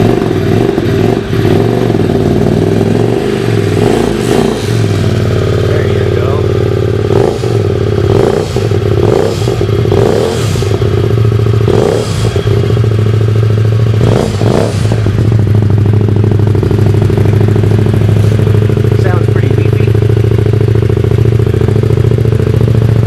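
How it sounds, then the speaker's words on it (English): V-twin motorcycle engine running loud and close with a steady low rumble, punctuated by a series of sharp throttle blips and revs through the middle. "The bike is a V-twin. And it's not neutral."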